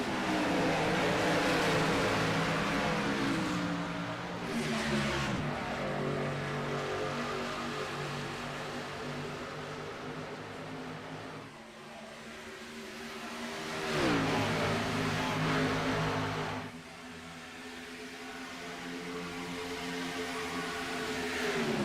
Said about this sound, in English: we are green flag racing once again at Las Vegas Motor Speedway